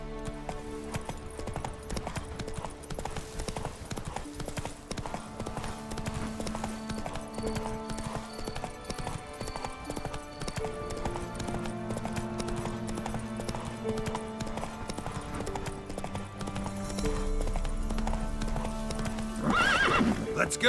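Roach, a horse in The Witcher 3, gallops with steady rapid clip-clop hoofbeats and occasional whinnies over continuous game music, growing louder near the end.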